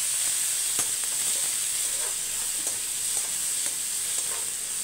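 Green chili, curry leaves and two large onions sizzle and fry steadily in a hot pan for a Tamil lunch-box meal, with a constant bright hiss and occasional stirring scrapes, close and continuous with no talk.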